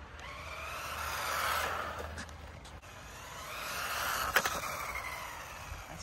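A UDIRC 1607 Pro brushless 1/16-scale RC drift car runs at full throttle, its high electric motor whine rising and falling in two close passes with tires scuffing and skidding, fairly loud outdoors.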